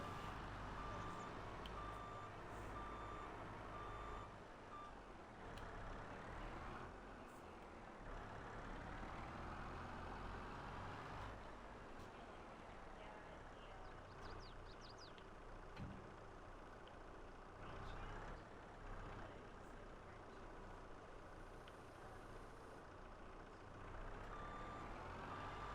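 A small Kubota truck backing up on a farm, its reversing alarm beeping steadily over the low hum of the engine throughout, moderately distant and with no talk.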